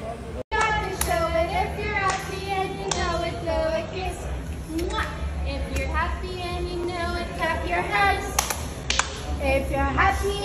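Children clap their hands in a lively burst of quick claps under a sung nursery rhyme, with kids' voices and chatter throughout at a family baby birthday party.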